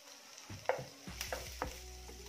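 Ginger garlic paste fries in a small amount of hot oil with a faint, soft sizzle, broken by a few scrapes and taps of a stirring spoon.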